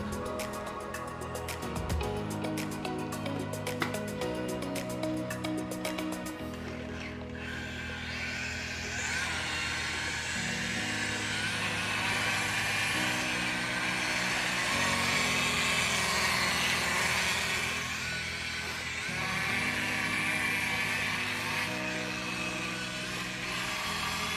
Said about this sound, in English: Okay, got everything wet sanded, nice and flat and dull. Now, time to buff it up.